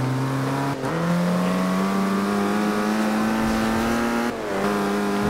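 A race car engine in the video game Forza Horizon 2 drones loudly and steadily from the cockpit view, its pitch climbing through the gears with brief dips at each shift.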